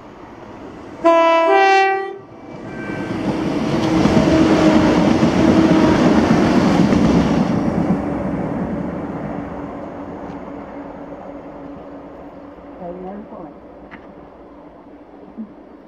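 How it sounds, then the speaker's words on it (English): A ScotRail service from Glasgow Queen Street to Inverness passes Blair Atholl, opening with a loud two-tone horn blast, then a long roar of wheels and engine that builds, peaks and slowly fades as the train runs by. "this is 1H53, the 1959 ScotRail service to Inverness from Glasgow Queen Street"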